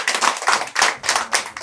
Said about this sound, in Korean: 박수 한 번 더 보내주세요